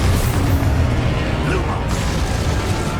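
Harry Potter video game spell combat with a burst of blasting booms and crackling impacts, loud and dense, mixed under a voice shouting spell incantations.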